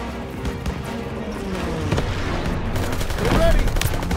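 Gunfire in Call of Duty: WWII during the Stronghold mission: sustained rapid machine-gun bursts and heavier booms, loud and dense throughout, with soldiers shouting over the firing.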